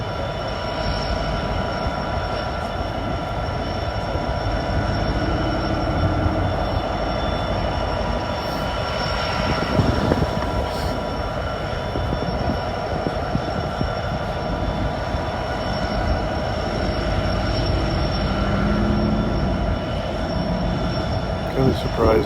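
Helper locomotives and rail cars of a freight train at Gallitzin, Pennsylvania rumble steadily nearby, with metallic wheel squeal and high ringing tones running throughout and occasional clanks.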